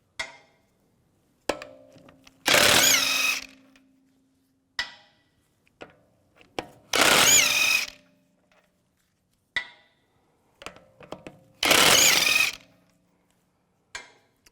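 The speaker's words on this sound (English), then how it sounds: "Now take the wheel off, use a 17mm socket. Take these lug bolts off." Lug bolts come off a front wheel of a 2004-2010 BMW X3 with a 17mm socket and a power tool, three loud sustained bursts of whirring spaced several seconds apart, separated by light clanks and taps.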